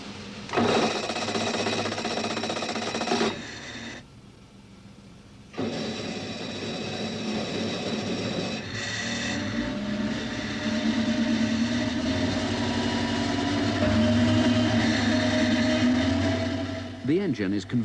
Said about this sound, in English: By February, the 4-cylinder prototype is on the dynamometer.